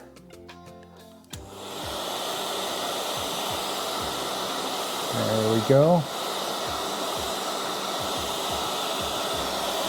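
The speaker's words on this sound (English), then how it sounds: "Now let's dry it off with the hair dryer." A hair dryer roars steadily at close range after a click switches it on, with a brief spoken remark partway through.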